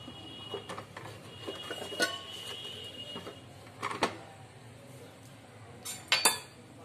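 A spoon scrapes and clinks around a bowl as turmeric powder is mixed into a thick puran poli batter, with scattered soft knocks and a couple of sharper taps near the end.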